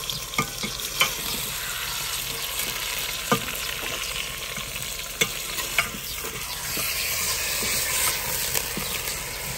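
Chicken frying in a pan with browned onions, a steady close sizzle broken by several sharp stirring scrapes and clinks, with no voices.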